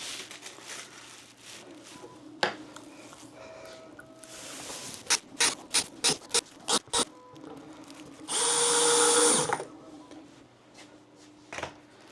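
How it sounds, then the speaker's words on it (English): Short bursts of a power screwdriver driving screws into the back panel of a 3D-printed hobby paint booth. The bursts come close and loud in a quick series, one longer whirring run follows, and there is some handling clatter. "And I'm going to screw together the backside."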